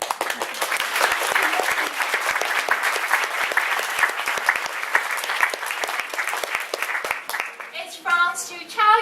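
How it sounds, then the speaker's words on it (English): An audience at a World Social Work Day event applauds in greeting, with brisk, close, continuous clapping that fades near the end as a voice begins speaking. "Can we just say hello to both sides by giving applause"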